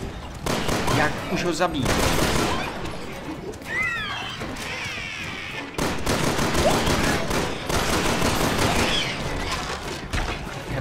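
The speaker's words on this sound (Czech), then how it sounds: "Jeden střel z brokovnice tě nezastaví." Shotgun blasts and other gunfire from the Resident Evil 6 video game, loud dense bursts filling most of the stretch, mixed with game effects and someone talking over them.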